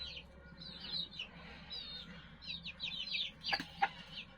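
Older chickens clucking and chirping nearby in short bursts, a few sharper calls standing out over a quiet background hum.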